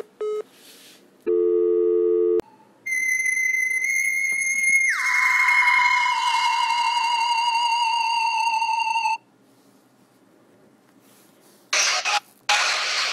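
Electronic telephone tones sound during a redialed call: a short low buzzing tone, then a long steady higher tone that drops in pitch partway through, followed by quiet and a few brief clicks.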